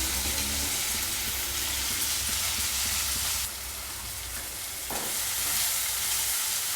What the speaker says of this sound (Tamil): நல்லா வதங்கிடுச்சு தக்காளி வெங்காயம்லாம்.